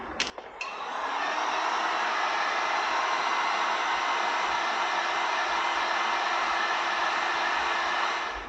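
Spray gun laying a light dust coat of paint on the side of a campervan, a steady loud hiss starting after a brief click and holding evenly for about seven seconds.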